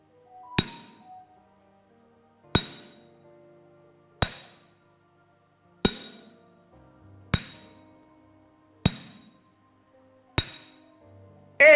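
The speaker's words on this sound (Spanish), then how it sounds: "El sonido de los clavos golpeados por un martillo" A hammer strikes nails in eight sharp, ringing metallic blows spaced about one and a half seconds apart, each clang decaying briefly before the next, close and clear with no talk.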